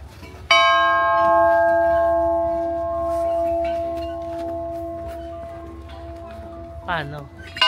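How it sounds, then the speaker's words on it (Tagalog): A good-luck bell at the Niseko Hanazono ski area is struck once, ringing out loud and close with a long, shimmering decay, while people chatter nearby and a voice rises near the end. "Patunogin mo yung bell."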